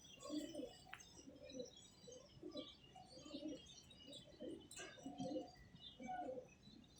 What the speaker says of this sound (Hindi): लो जी, ये कबूतर देखें, क्या कबूतर है यार